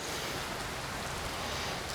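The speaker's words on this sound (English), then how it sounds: "That little bit of rain is nothing compared to what they're saying is going to happen tonight." Light rain falling in Louisiana weather makes a steady, soft hiss of broadband noise for two seconds, quiet and even with no speech over it.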